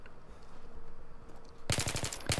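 Rapid bursts of automatic gunfire from the video game Battlefield 3 erupt suddenly after a quiet stretch, loud and close, with several sharp shots in quick succession.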